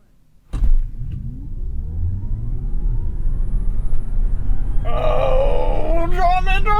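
A 2021 Ford Mustang Mach E AWD Extended Range launches in a drag race, a sudden onset then a steadily climbing electric motor whine with rising tones and road rumble, loud and continuous, as excited voices and shouting join near the end.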